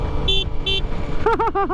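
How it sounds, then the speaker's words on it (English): Horn of a Kawasaki ZX-4RR motorcycle, two short bright beeps followed by a string of quicker, warbling honks, loud and close over a low idle rumble. "Ooh, let's hear the horn."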